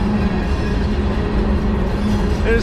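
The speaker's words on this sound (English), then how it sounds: "It's like we're still waiting for the train to pass." A long freight train rumbles past close by, a loud continuous roar of rolling wheels and rattling cars that holds steady without a break.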